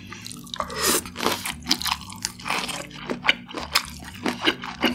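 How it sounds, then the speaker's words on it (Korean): Fried shrimp dipped in spicy chili sauce is eaten close to the microphone, with wet, squishy chewing and a few crunchy bites repeating in a loose rhythm, without talk. "새우는 요 칠리소스 찍어 먹어볼게요."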